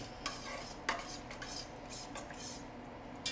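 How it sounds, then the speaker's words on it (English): Tomato paste is stirred into a simmering pot, giving a few light scrapes and clinks of a utensil against the cookware over a steady low background. "We're gonna add 3 tablespoons of tomato paste. Throw it in there, mix it around."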